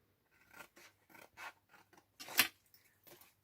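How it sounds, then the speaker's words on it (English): Scissors in need of sharpening snip repeatedly through stiff cardboard, a series of short crisp cuts in an uneven rhythm, close and fairly quiet. "These scissors need sharpening."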